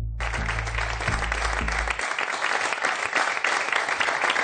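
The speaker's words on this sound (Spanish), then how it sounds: "Entre aplausos" Applause as Barcelona president Bartomeu leaves after his resignation, a steady crackle of clapping from a small group, with low tonal hits in the first two seconds before the clapping continues alone.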